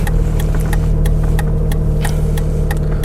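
A Mazda RX8 rotary engine idles while stopped at a traffic light, a loud, steady low rumble with a fast pulsing throb heard from inside the car, no talking.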